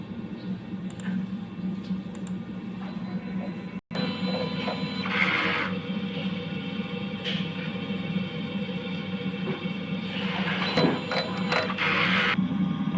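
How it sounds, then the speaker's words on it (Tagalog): A DTF printer running its print-head cleaning cycle, a steady mechanical hum with whirring pump and carriage bursts, one brief dropout partway through, continuous and close with no talk. "Ito po ang tamang pag-head clean."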